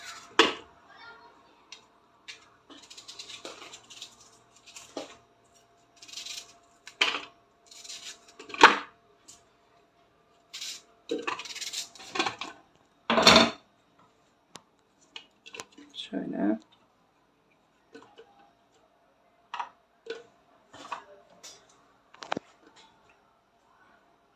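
Onions and peppers are chopped at home for lahmacun, a run of sharp, close knife strikes in uneven bursts with gaps of quiet between them.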